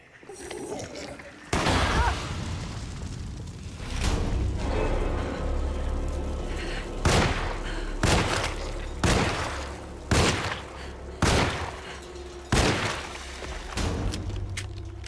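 Pistol shots and reloading in the survival horror game Alone in the Dark (2024), a series of sharp booming reports spaced a second or two apart over a low rumbling background, loud and close.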